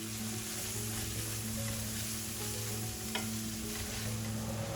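Chopped onions with salt fry in a pan for chicken gravy, a steady, even sizzle running throughout with a low background hum.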